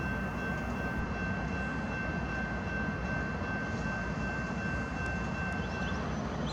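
A loaded CSX coal train bound from Tuscaloosa to a coal terminal in Mobile, Alabama rolls past with a steady, broadband rumble and a faint high tone, constant and moderately quiet.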